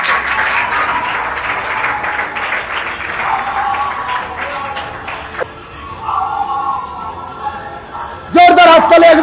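Crowd applause at a Bengal Force Academy gathering celebrating SSC-GD physical selection, steady clapping running through the clip under an announcer's voice, with a louder burst near the end.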